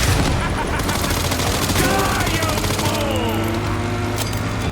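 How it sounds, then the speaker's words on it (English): Dense, loud gunfire fills Resident Evil Requiem with rapid bursts and booms overlapping continuously, while voices talk underneath. "shoot the walls when they appear"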